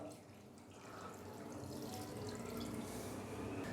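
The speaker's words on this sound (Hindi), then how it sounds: "और अभी मैं इसके अंदर डाल दूंगा पानी," Water from a glass is poured into a bowl of raw chicken with vinegar and salt for a crispy besan-fried chicken recipe, a steady close splashing and trickling that builds over a few seconds with no talking.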